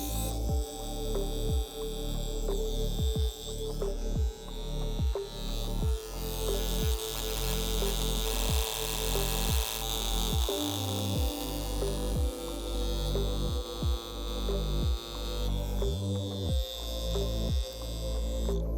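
A Wormhole Pro tattoo machine runs at 9.5 volts while pulling lines, giving a steady close electric buzz with rhythmic pulsing that dips briefly as lines start and stop, with no talk over it.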